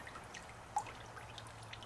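Water dropping from a homemade triple sluice into a bucket, a quiet trickle with scattered small drips and one sharper splash partway through, over a low steady hum.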